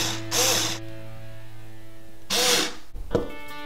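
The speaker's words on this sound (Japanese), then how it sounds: "ネジを入れていきます。" A power drill drives screws into a plywood canvas board in two loud bursts, each whining for about half a second to a second, with a brief clatter after the second burst.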